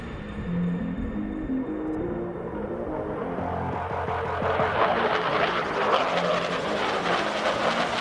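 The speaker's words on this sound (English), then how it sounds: "I'm pushing up the throttles as the afterburners kick in, and it allows the air to produce lift to get my jet off the ground." A fighter jet takes off with its afterburners lit, a rumbling engine noise that swells into a broad, loud roar about halfway through and holds steady to the end.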